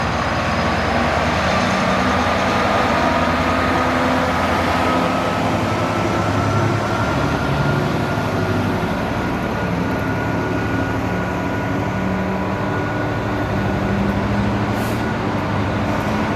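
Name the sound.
loaded stone freight train passing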